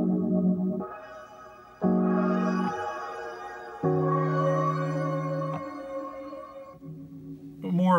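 An Empress ZOIA pedal running a Ghost in the Shell octave-up reverb patch turns played notes into eerie, shimmering sustained tones, each swelling and fading into a wavering wash, moderately loud with no talking.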